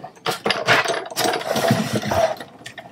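A gray mat fed through a hand-cranked embossing machine for papercraft makes a close, whirring mechanical grind with uneven bursts of rolling and clicking over a few seconds.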